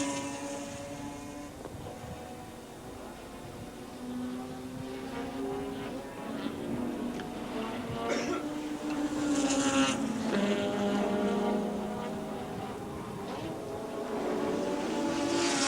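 1984 touring cars, including Mazda RX-7s, lapping Adelaide International Raceway. Several engines blend into a moderate, distant-sounding droning whine that swells and shifts pitch as cars pass, with faint crowd or commentary noise underneath.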